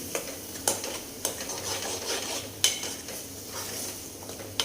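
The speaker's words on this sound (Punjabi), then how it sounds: "ਇਹ ਆਪਾਂ ਮਸਾਲਾ ਚੰਗੀ ਤਰ੍ਹਾਂ ਭੁੰਨ ਲਾਂਗੇ" Spices, cumin and asafoetida with onions frying on high heat in a pan for bitter gourd curry, a steady sizzle broken by several sharp scrapes and clinks of a spoon against the pan.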